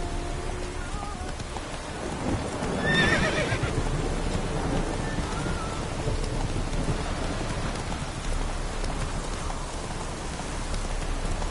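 Horse whinnies near the start over steady rain and a dull rumble, in The Witcher video game, followed by continuous hoof-like rumbling and downpour texture throughout.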